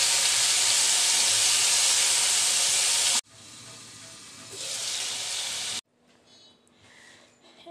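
Tomatoes frying in a pan and being turned to cook on both sides give a loud, dense sizzle that cuts off abruptly, resumes at lower level, then drops to near silence.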